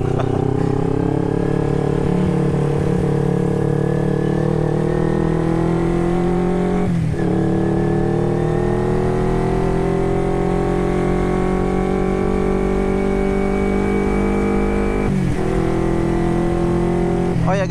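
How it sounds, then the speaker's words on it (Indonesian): A 2009 carbureted Kawasaki Ninja 250 motorcycle riding around town, its engine loud and close with steady droning, rising through the revs and dipping briefly at two gear changes. "Ini motor Ninja karbu tahun 2009."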